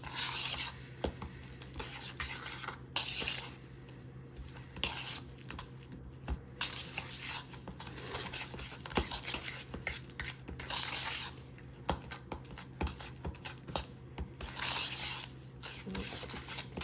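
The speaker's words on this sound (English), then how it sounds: "kind of do that mashing and mixing action since we aren't using hand mixers" Butter, sugar, egg and vanilla being mashed and mixed by hand for sugar cookie dough without a mixer, with repeated scraping, clinking utensil strokes against a bowl in an irregular rhythm, close and fairly loud, no talking.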